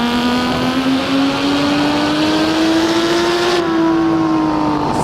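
A Lamborghini Miura P400SV engine growls continuously and loudly, its raspy pitch rising steadily and then easing slightly, like a sustained acceleration in the racing game Assetto Corsa.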